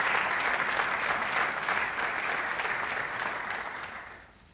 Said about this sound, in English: Now we can clap, everyone.